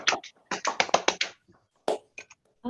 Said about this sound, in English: I suggest unmuting our microphones and giving a round of applause